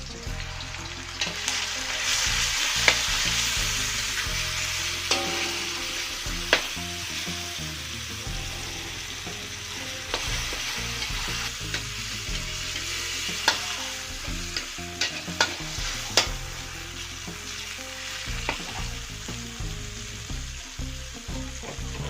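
Tomatoes stir-frying in a pan for a vegetable dish seasoned with Mie Aceh spice, giving a steady, loud sizzle throughout with repeated scrapes and clacks of a utensil stirring, and no voices.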